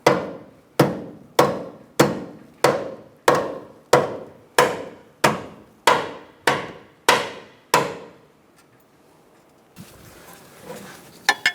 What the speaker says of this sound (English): and hammer in the other side.